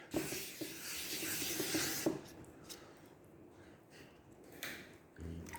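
Abrasive paper rubs across primer on a Honda ST 1100 motorcycle panel, a continuous scratchy hiss in steady strokes that stops around the two-second mark, followed by quieter handling scuffs and a light knock.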